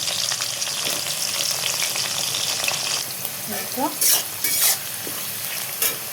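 Bay leaf, cardamom, cinnamon and chopped onion frying in hot oil in a wok, a loud steady sizzle with scraping stirs and a few sharper clatters toward the end.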